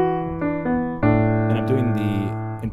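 A jazz hip hop beat with piano chords and bass, the whole track transposed up a half step, playing a steady progression of sustained chords that grows fuller and brighter as drums enter partway through.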